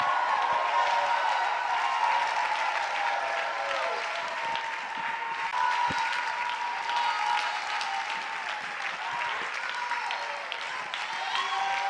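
Sustained applause from a church congregation during an evening family worship service, a dense, steady wash of clapping filling the whole stretch without a break.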